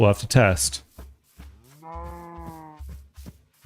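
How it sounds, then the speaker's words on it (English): A cow in the Minecraft video game gives one drawn-out, loud moo after a man's brief speech and some soft game clicks and footsteps. "this looks like this could be a male cow"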